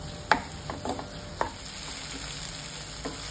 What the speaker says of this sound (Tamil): ஒரு ஸ்பூன் இஞ்சி பூண்டு பேஸ்ட் போட்டு கொஞ்சம் பச்சை வாசனை போற இஞ்சி பூண்டு பச்சை வாசனை போற வரைக்கும் நல்லா வதக்கிக்கணும்.